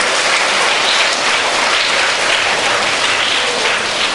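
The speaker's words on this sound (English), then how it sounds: "Give them a good applause," A school audience applauds at a Christmas program, a dense, steady wash of clapping that holds at full loudness for about four seconds with no voices rising above it.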